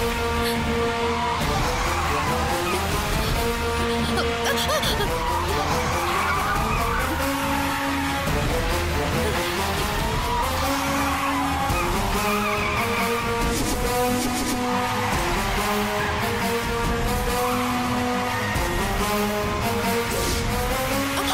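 A car with failing brakes skids in a long, continuous squeal that wavers and slides in pitch, staying loud and steady with engine noise underneath throughout.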